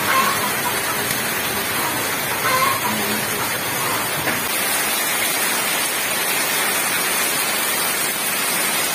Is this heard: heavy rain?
yes